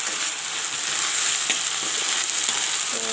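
Jute leaves (pat shak) fry in a pan for a lentil dish, giving a steady, close, dense sizzle with faint stirring scrapes throughout and no voices.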